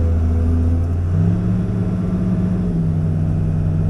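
A land clearing machine's engine running at reduced throttle on a lot covered with wood chips and stumps, a steady low droning hum with a slight pitch shift partway through and no talk.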